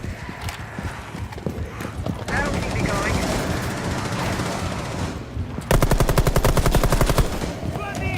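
Rapid automatic gunfire in a zombie-outbreak shooter game, a loud sustained burst near the end following dense game action and clattering effects, heard close with no talking.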